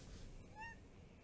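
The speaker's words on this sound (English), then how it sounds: "There were a few meows, they might have been picked up, they might not" A very vocal pet cat gives one short, faint meow with a rising then falling pitch, heard alone against a quiet background hiss.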